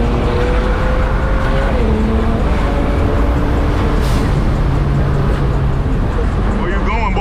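A straight-piped big turbo BMW 335i roars loudly from inside the car, engine pitch dipping on a downshift then pulling hard under acceleration, with people talking over the constant road and exhaust noise.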